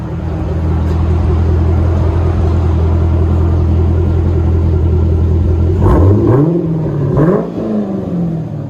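A 1999 Chevy Corvette 5.7L V8 with a Borla ATAK exhaust and H-pipe delete idles with a deep, steady rumble, then gets two quick throttle blips near the end, loud and close.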